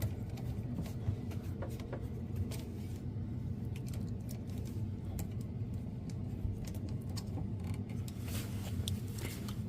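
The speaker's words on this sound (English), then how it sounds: "So now I'm going to sew." A sewing machine stitches a winter puffer coat while replacing a zipper with leather piping, giving a steady, continuous mechanical hum and creaky clatter that runs without pause, close and alone.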